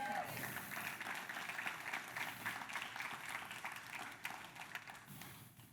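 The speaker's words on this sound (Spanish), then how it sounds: "esta es la parte donde usted aplaude" A church congregation claps steadily, a soft wash of applause that fades slightly toward the end.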